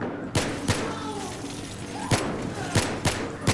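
Sharp gunshots crack out in scattered bursts in the Battlefield 3 campaign, a pair early and then several in quick succession, over a low continuous background hum.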